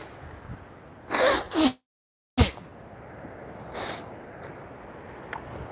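A person blows their nose in two forceful bursts, followed after a brief silence by a sharper snort, with faint rustling background noise.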